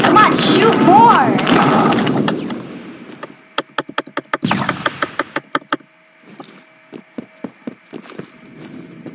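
Gunfire in the Phantom Forces shooter game: a rapid string of sharp, evenly spaced shots in bursts, following loud talk and game noise at the start, with a steady tonal hum underneath.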